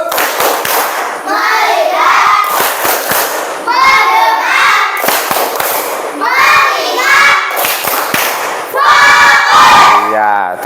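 A class of schoolchildren performs the 'tepuk fokus' clap chant in unison, loud group shouting and chanting punctuated by sharp collective claps in several rhythmic bursts, fairly close in a classroom.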